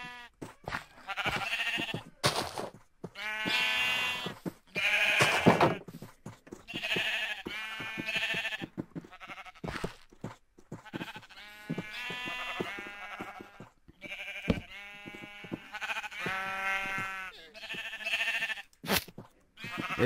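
Sheep in Minecraft bleating repeatedly, with many wavering, nasal bleats overlapping and coming in clusters over a long stretch, fairly close with short pauses between calls.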